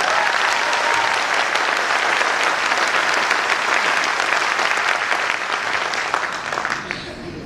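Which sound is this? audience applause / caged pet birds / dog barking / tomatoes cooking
audience applause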